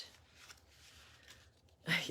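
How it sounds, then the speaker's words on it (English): Goddess Oracle deck cards being shuffled by hand, a soft papery riffle and rustle close to the microphone, rising into a brief louder burst near the end after a quiet stretch. "I know you can hear me shuffling my cards."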